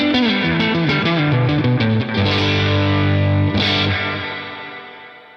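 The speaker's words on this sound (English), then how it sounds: "Here is the reverb pedal before the delay pedal. Notice how washy the sound is." Electric guitar through a reverb pedal placed before a delay pedal, giving a washy sound: loud, distorted chords ring and smear together, then a held chord fades out slowly.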